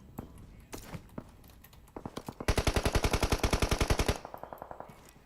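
Rapid automatic gunfire from the mobile shooter game PUBG Mobile, with a dense burst of closely spaced loud shots after a few scattered single reports, then a lighter trailing series of quieter shots.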